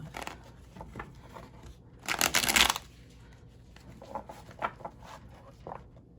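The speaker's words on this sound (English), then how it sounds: "let's go ahead and shuffle the cards" A deck of cards is riffle-shuffled once in a quick, crisp burst, surrounded by quieter soft handling and tapping sounds.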